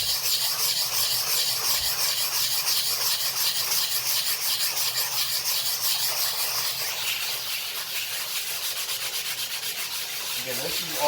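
Abrasive sanding on a painting canvas, worked in steady circular motions to knock off coarse texture, a continuous close scratchy rub that keeps an even pulsing rhythm for the whole stretch.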